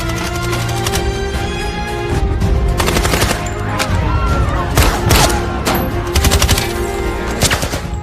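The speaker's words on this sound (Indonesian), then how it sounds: "Jake dan Michael keluar dari mobil dan melepaskan tembakan balasan yang presisi." Gunfire from a shootout as men step out of a car and return precise fire: rapid, loud cracks and bursts in uneven volleys, repeated throughout, close and harsh.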